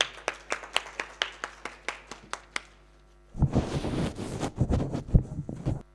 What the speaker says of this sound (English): Can we give Dr. Francis another round of applause as he approaches the stage?